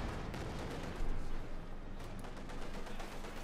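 A field gun firing in the World War II strategy game Company of Heroes 2, hitting a T-35 tank amid dense, rumbling battle noise with booming impacts and scattered gunfire, loud and continuous.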